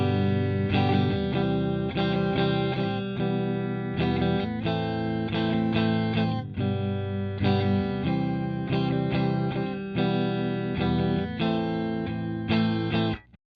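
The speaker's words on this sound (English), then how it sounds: "here is what a little bit of compression sounds like" An electric guitar plays chords and riffs through a compression pedal, notes evenly sustained and smoothed, strummed in repeated phrases before cutting off abruptly.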